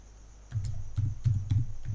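Keys clatter on a computer keyboard as a search term is typed, a quick run of close, crisp clicks in a steady rhythm with no voice.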